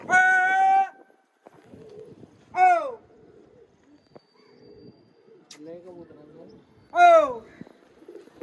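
Antique breeding pigeons coo in a loft, a few separate calls spaced seconds apart, fairly close, with quiet pauses between them.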